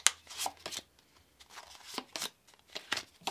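Tarot cards being shuffled by hand in a quick run of crisp papery riffles and flutters, close and fairly soft, with short pauses between bursts.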